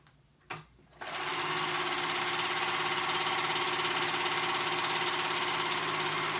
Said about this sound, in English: we're gonna go ahead and sew those sides together